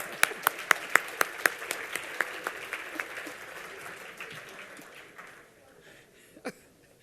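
Applause from an awards-ceremony audience, a burst of sharp individual claps that swells into steady clapping, then thins and fades out over several seconds, with one last stray clap near the end.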